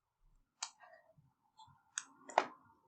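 A computer mouse clicks a few times at close range, sharp isolated taps with short gaps between them in an otherwise quiet room.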